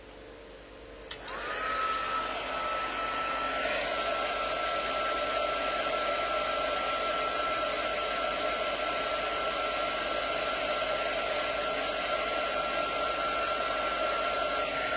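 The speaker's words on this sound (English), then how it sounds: "I'm going to come in with my heat tool. This is going to be loud" A craft heat tool switches on with a click and blows hot air in a loud, steady whoosh with a whining tone, running continuously and close up without any talking.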